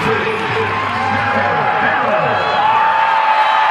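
A stadium crowd at a college football game roars and cheers in a sustained, dense wall of noise, with whoops rising above it and a commentator talking over it.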